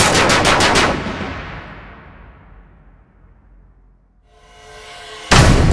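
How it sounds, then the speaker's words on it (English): A Browning machine gun fires from a Spitfire in a short, loud burst of rapid rounds that rings out and echoes away into a long fading tail, followed by a faint whine and then another abrupt blast. "The Browning fires around 6 bullets a second."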